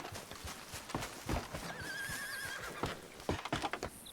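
A horse in the video game Red Dead Redemption 2 lets out a wavering whinny in the middle, surrounded by clip-clop hoofbeats and soft background noise at fairly low level.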